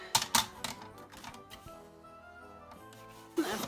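Scissors snip through paper to cut a rough Christmas tree shape, a few crisp close clicks and rustles, quiet, with no talking.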